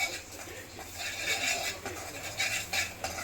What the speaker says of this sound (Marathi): हे सगळं त्याच्यामध्ये टाकते आणि असं सगळं मिक्स करून घेते